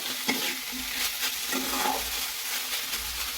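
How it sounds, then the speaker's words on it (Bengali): Fenugreek leaves with potato and bori sizzle and fry in a pan, with repeated stirring scrapes of a spatula over a steady low crackle. "এইবার আস্তে আস্তে ভেজে নেব"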